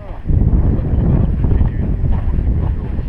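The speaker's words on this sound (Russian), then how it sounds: "Дует ветер" Wind gusts buffet the microphone outdoors in Pripyat as a loud, continuous low rumbling roar that swells and dips.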